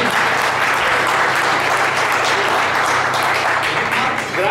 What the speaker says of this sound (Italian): Bravi, un applauso.